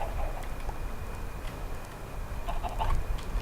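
Minecraft chickens clucking softly in a game world, a few short scattered clucks over a steady low background hum, with no talking.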